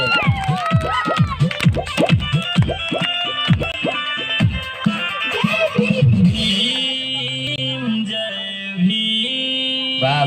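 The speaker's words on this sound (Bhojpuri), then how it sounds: "जोरदार तालियां, क्या बात है।" A lively crowd at a singing performance cheers and shouts loudly, with voices rising in bursts, sharp clapping-like hits early on and a noisy, animated swell throughout.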